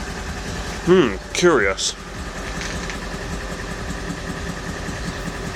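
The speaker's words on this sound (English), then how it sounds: "We've got a little bit of misfire." A cold Vauxhall Corsa engine idling with a slight misfire, a steady mid-pitched rumble with a faint uneven pulse, close and continuous, with a voice speaking briefly near the start.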